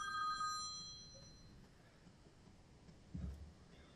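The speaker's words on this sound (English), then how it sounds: "I should have put my phone on silent." An old-school phone ringtone trills briefly at the start, faint and bell-like, before fading into a quiet room where a soft thump follows.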